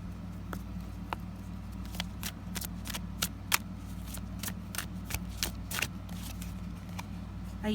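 Shuffling of an Angel Answers oracle card deck, repeated crisp riffling and slapping of cards in an uneven rhythm, close and fairly quiet over a low steady background hum.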